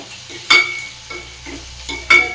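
Peas and capsicum frying in oil in a pan, a soft continuous sizzle broken by two sharp spatula scrapes and a few lighter stirring strokes, close up with no talking.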